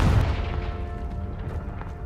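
A Confringo spell blast in Hogwarts Legacy: a heavy booming impact at the start, then a lingering rumble and debris tail that fades away.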